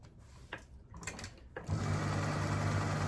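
Sewing machine stitching cloth for a small gift bag: after a few soft handling clicks, the motor starts and runs in a steady, close, continuous hum with a fast rhythmic stitching buzz, no talking.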